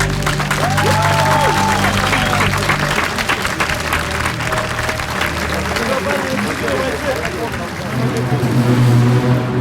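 Sustained applause from an audience at a water-battle fighting event, dense steady clapping filling the whole stretch with a crowd murmur and bits of background noise beneath it.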